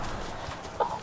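A broody hen sitting on eggs gives a short, loud cluck near the end, standing out over a steady low background hum in a farmyard.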